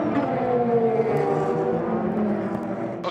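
The number 8 Toyota endurance race car at the 8 Hours of Bahrain (FIA WEC) drives on circuit, its engine holding a loud, steady high drone that shifts pitch slightly, close and continuous with no talk.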